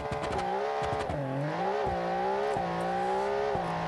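A custom-built race car in BeamNG.drive screams through its revs with quick gear shifts, the engine note climbing, dropping sharply at each change and climbing again, loud and close with no talk.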